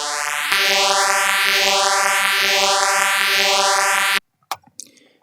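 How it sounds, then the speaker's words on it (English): A synth tone passes through a ring mode filter with the cutoff set all the way down, producing a steady pulsing tremolo with repeated sweeping swells for about four seconds, then cutting out, followed by a few faint sounds. "This nice tremolo effect could be achieved using the ring mode filter with the cutoff set all the way down."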